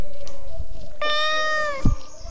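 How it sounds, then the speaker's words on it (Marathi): A house cat gives one drawn-out meow close by, rising then fading over a quiet background, with a soft thump just after. "आपला मांजर"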